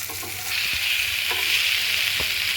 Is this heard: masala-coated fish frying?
yes